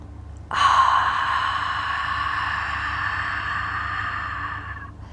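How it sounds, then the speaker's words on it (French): A long, steady ujjayi yoga breath exhaled through a constricted throat, a soft hissing rush that starts abruptly and holds for several seconds, close and unaccompanied. "cette respiration derrière la gorge, c'est ce son qu'on cherche"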